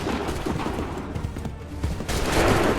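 Musket volley fire in the Assassin's Creed III Battle of Bunker Hill, a dense crackling fusillade with rolling booms that swells louder near the end.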